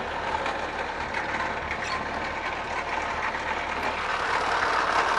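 A 1952 Minerva 4x4's licensed Land Rover 2-litre engine idles steadily with a constant mechanical rumble and faint ticking, holding an even level throughout.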